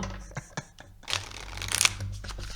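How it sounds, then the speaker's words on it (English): A deck of playing cards being shuffled, with soft riffling flutters and taps building to a louder burst of riffle before settling, close up and fairly quiet. "Go ahead and shuffle now."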